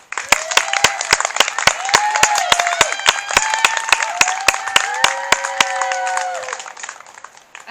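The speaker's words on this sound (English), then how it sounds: "Another round of applause, please." Audience applause at an 8th grade graduation ceremony in 2020: a dense burst of many hands clapping steadily and loudly for several seconds, with some crowd voices and whistle-like cheers mixed in before it fades near the end.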